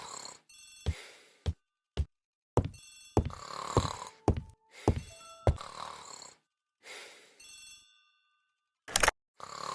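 An old-style telephone bell in a hallway rings in repeated short bursts with brief pauses in between, from the ABC Murders video game, heard alone at moderate volume.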